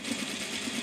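A domestic sewing machine runs a short back stitch while sewing a slant pocket on pants or a skirt, giving a brief, steady, close motor whir with no pauses and no talking.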